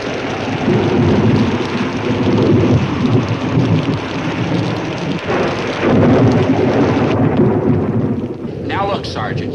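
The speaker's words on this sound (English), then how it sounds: "when the old lightning starts lightning, the old thunder starts thundering" A thunderstorm with heavy, steady rain and rolling thunder, loud and continuous throughout, with a brief lull near the end.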